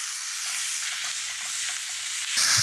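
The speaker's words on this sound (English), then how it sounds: "in goes the bacon. And we're just gonna let that fry away for a couple minutes" Bacon frying in a hot Dutch oven over a campfire, a steady bright sizzle close up and fairly loud, with a sharper surge of hissing at the very end.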